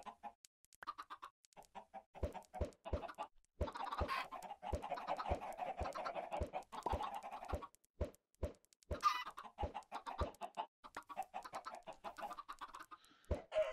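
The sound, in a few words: chickens clucking in the video game Minecraft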